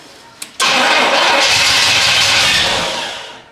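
A 1967 Pontiac Bonneville engine, long abandoned, cranks briefly after a small click, then catches and roars loudly into a steady running rumble that slowly eases off.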